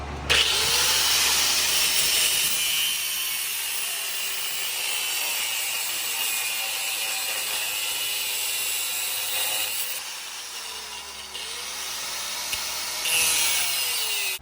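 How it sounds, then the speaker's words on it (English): A power tool cuts through an engine mount to make room for the starter on a stock B20 engine, producing a continuous harsh grinding and rasping that runs the whole time and swells near the end, with no speech. "he's about to cut the mount to fit the starter"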